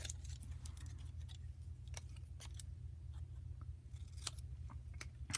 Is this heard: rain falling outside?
no